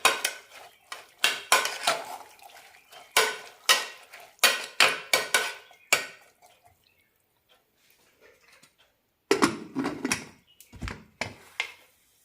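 A banana stem and horsegram curry is mixed in a pot, producing loud, rhythmic metal spoon clanks and scrapes in clustered bursts, a quiet pause, then another run of clatter.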